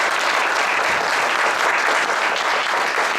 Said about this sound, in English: let's big round of applause for you.